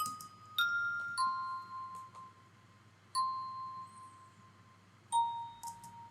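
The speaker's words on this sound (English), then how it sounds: "So this is the bell I used." Bright bell sample from a pluggnb beat built in FL Studio, a few clear struck tones ringing out and decaying over a soft low pulse, with new strikes entering every couple of seconds.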